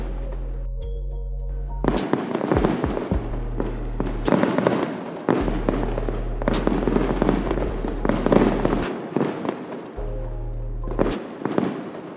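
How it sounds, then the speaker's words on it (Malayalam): New Year's Eve fireworks over London at midnight, a dense, loud barrage of crackling bursts and booms continuing almost without pause, with a steady low hum underneath. "എനിവേ കുറച്ച് കഴിഞ്ഞപ്പോൾ ഫയർ വർക്ക്സ് ഒക്കെ സ്റ്റാർട്ട് ചെയ്തു."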